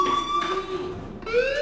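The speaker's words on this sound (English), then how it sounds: "Hey, do you hear that fire alarm?" A fire alarm rings in the video game Life is Strange, a steady electronic tone with sliding pitch and rising harmonics, continuous and fairly loud throughout without any talk.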